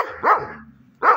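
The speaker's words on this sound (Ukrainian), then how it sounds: "Господи, з цими собаками." Dogs bark outdoors at moderate distance, two separate barks about three quarters of a second apart with a faint whine between them, and no talking.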